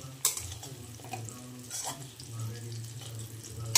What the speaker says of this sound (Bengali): এখানে বসিয়ে দিয়েছি হচ্ছে পেঁয়াজ দিয়ে আলু ভাজা